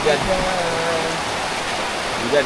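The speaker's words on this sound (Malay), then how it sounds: "Hujan." Rain falls steadily in Taman Negara, an even, close hiss of drops with faint voices in the background.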